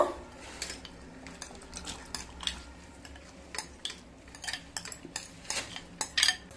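A spoon scrapes and clinks against a bowl, mixing soaked dry fruits into an eggless plum cake batter with a steady series of close, irregular knocks and scrapes, no voices.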